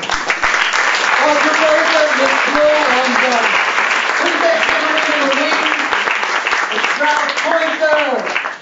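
An audience at a birthday celebration in a theater applauds steadily and loudly for several seconds, a dense wash of clapping with a few voices calling out over it.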